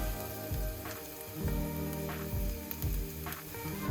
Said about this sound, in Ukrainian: Додаю цей часник до смаженої цибулі і також смажу.